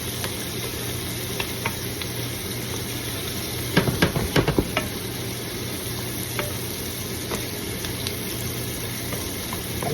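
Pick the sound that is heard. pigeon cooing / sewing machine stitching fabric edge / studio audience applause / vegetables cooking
vegetables cooking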